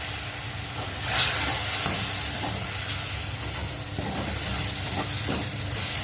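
Black masala paste of gas-roasted onion and coconut roasts in a little oil for a Mandeli fish curry, giving a steady, close hiss and sizzle that holds evenly throughout with faint clinks of stirring.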